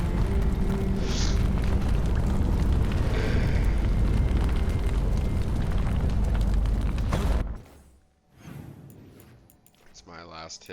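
A structure in Dragon Age: The Veilguard is struck and destroyed, a loud sustained roaring blast of explosive rumble lasting several seconds before cutting off abruptly, followed by quieter scattered debris and game sounds.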